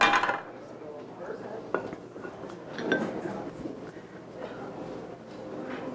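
Pan handled on a stovetop while heating for steak with béarnaise sauce, a few soft clanks and light metallic knocks under steady kitchen background hiss.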